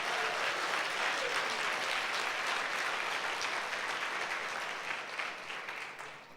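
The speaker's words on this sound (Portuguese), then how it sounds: "Se você recebe, dá um aplauso aí ao Senhor Jesus" A church congregation at a Sunday service breaks into sustained applause, a steady wash of many hands clapping that swells and then begins to fade toward the end.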